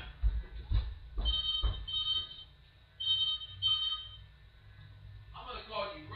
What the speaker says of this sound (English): Oh gosh, my phone is ringing.